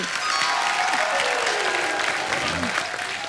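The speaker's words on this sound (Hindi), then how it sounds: "एक बार जोरदार तालियां इन सारे सुपर हीरो के लिए" Loud, steady applause from a large studio audience honouring the 1983 World Cup-winning Indian cricket team, a dense wash of clapping and cheering that holds for the whole stretch with no letup.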